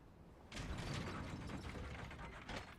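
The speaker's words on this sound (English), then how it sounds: "once at the top, we will pull this lever" A lever is pulled in the video game Dark Souls, bringing a sudden mechanical ratcheting and grinding that starts abruptly, runs steadily for a couple of seconds and ends with a final clunk, with no voices.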